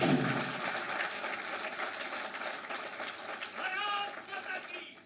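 Sustained applause from a crowd at a BJP political rally in Bhopal, a dense steady clatter of clapping that holds for several seconds before tapering off at the end.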